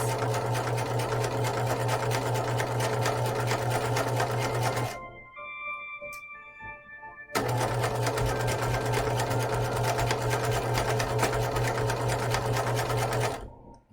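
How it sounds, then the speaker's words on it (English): A sewing machine edge stitches a hanten in two long, fast, steady runs, its motor whirring loudly with a brief quiet pause and a few clicks between the bursts. "I'm gonna edge stitch this"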